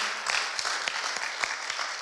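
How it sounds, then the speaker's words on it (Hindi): A church congregation breaks into applause, a dense, steady clatter of many hands clapping in a hall, fairly loud and sustained without talk. "क्यों नहीं हम लोग ताली बजाकर एक दूसरे को बधाई दें।"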